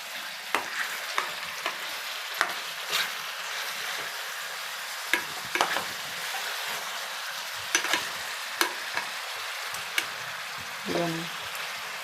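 Pieces of fish curry are turned in a pan of tamarind gravy, a soft bubbling sizzle with scattered sharp clinks and scrapes of a spatula, close and fairly quiet.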